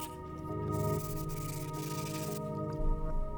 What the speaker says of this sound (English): now begins the endless task of sanding and sanding and sanding and sanding and polishing